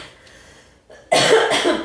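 A single loud cough bursts out after a quiet moment, sharp and close, trailing off into a second rough burst.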